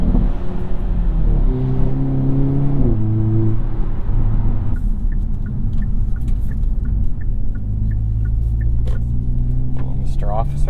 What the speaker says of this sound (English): Bouncing off that rev limiter, I like that.